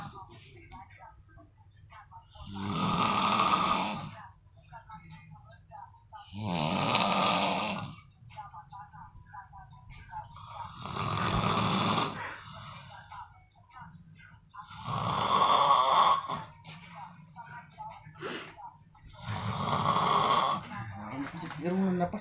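A sleeping person snores loudly and repeatedly, with five or six long rasping breaths in a slow, regular rhythm and quiet pauses between them.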